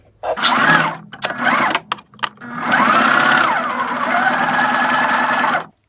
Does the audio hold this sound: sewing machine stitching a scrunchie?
yes